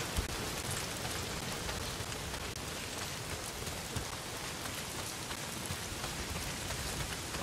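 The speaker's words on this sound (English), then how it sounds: "Not if it's pissing down rain." Heavy rain pours steadily in the game Days Gone, a dense continuous hiss of drops with no talking.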